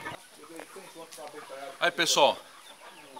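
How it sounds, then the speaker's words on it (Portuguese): Giant Indian (Índio Gigante) chickens cluck and call close by on a farm, short rising bursts that mix with a man's speech. "Além das galinhas de qualidade do índio gigante"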